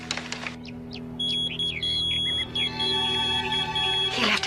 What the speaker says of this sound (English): He left his beeper here.